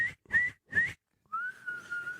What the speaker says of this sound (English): Do you not know how to whistle?